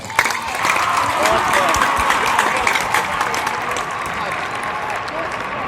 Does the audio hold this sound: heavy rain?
no